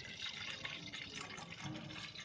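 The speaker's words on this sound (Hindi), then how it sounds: "आपको स्प्रे बोतल में पहले थोड़ा पानी लेना है।" Water pours steadily into a spray bottle at close range, a soft continuous splashing fill that stays even for the whole short stretch with no speech.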